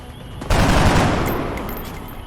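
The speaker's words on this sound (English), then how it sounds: "Open fire." A squad in the XCOM video game opens fire: a sudden loud burst of overlapping gunshots erupts and sustains as a dense, roaring volley that slowly tapers.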